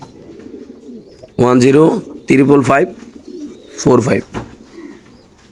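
Racing pigeons at a pigeon farm give soft throaty coos in three close bursts, with a man briefly reading out numbers between them.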